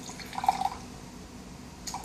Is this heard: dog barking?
no